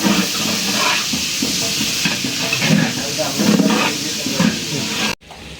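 Onions, green chilies and spices frying in hot oil for a biryani, a loud continuous sizzle and hiss with stirring scrapes throughout, ending abruptly.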